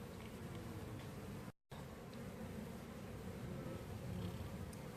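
Honeybees buzzing around an open hive during a queen inspection, a dense continuous hum with a brief dropout partway, steady and close, no voices.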